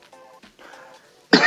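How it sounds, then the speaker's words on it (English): A single sharp, loud cough comes at the very end, after a stretch of quiet, faint throat sounds. "I apologize for I don't know where this cough just came from"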